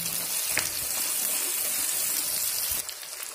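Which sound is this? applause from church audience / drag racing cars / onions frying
onions frying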